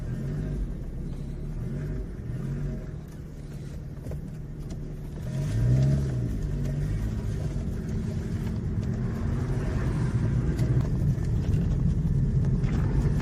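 A BMW E36 engine drones steadily from inside the moving car, a low rumbling hum with a brief swell of revving partway through, constant road noise underneath and no talk.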